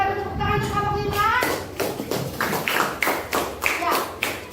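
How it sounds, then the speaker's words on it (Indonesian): In a classroom, the class claps for a group of students, a rhythmic burst of fairly close claps following a brief spoken line, with children's voices audible among the claps. "Kita tepuk tangan untuk kelompok 5."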